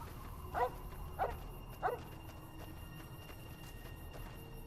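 Three short dog barks or yips in Fallout: New Vegas, spaced evenly about half a second apart, sit moderately close over a steady low ambient hum, with no talking.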